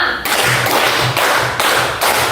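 Children clap in rhythm in repeated bursts, steady and fairly loud, with brief pauses between the sets of claps.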